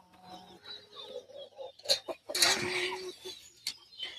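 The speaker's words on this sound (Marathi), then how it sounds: "कोंबड्या लागल्यात वरडा आहे" Hens clucking in short, irregular bursts close by, with a few sharper squawks, over a faint background murmur.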